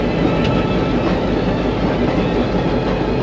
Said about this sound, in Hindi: ये GMU लोकोमोटिव है GMU 15